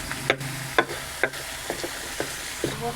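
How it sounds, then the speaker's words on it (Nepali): Village garlic and ginger being ground into paste on a silauta grinding stone: about six rhythmic scraping strokes, each roughly half a second apart, close and moderately loud, with no voices. "म अब यसलाई पिस्दैछु"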